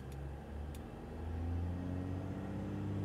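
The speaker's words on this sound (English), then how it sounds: "Service diesel particulate filter regeneration. So the RPM is gonna increase." Dodge Ram diesel engine idling during diesel particulate filter regeneration, a low steady rumble whose pitch climbs slowly as the RPM rises, heard from nearby with no speech.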